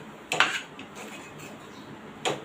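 A metal lid clatters onto a pan of potatoes cooking for bread patties, with two sharp clanks close together and another clink shortly after, fairly quiet in a home kitchen.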